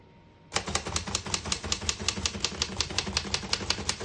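Keys of a 1940 Remington Model 5 portable typewriter strike in a steady, even run of crisp clacks after a brief quiet start, loud and close with no talking.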